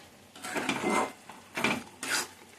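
A spoon stirring palak chicken in a cooking pot, three separate scraping strokes that are fairly close and quiet, with no voices.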